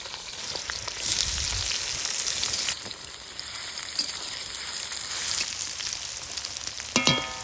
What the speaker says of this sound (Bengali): সবার আগে পেঁয়াজগুলা ভাজি নিব